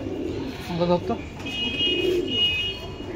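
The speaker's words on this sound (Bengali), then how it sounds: "পায়রাগুলো খুব ছটফটে।" Pakistani pigeons coo in a loft, with soft, low, throaty calls close by, a few brief bursts and light movement among them, while people talk over the birds.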